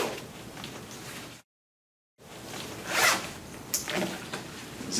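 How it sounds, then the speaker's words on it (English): A zipper drawn along a film changing tent, two rasping pulls separated by a short silence, close and crisp, with a few more zip strokes toward the end. "So I'm gonna zip up the tent."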